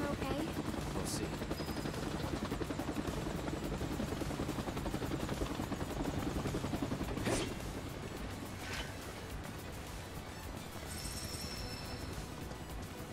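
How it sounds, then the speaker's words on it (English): A helicopter in Final Fantasy VII Rebirth flies nearby, a steady rapid rotor chop under game effects, with a few sharp clanks and whooshes cutting through. "I hear a helicopter."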